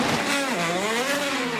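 An IndyCar race car, Marco Andretti's, at the Indianapolis 500 slowing onto pit road, its engine note loud and steady with a pitch that dips and then climbs again. No voices are heard.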